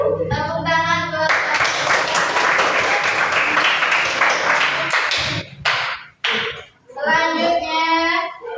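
A group of children claps together in a sustained burst of applause lasting a few seconds in a classroom, with young voices speaking Indonesian before and after it.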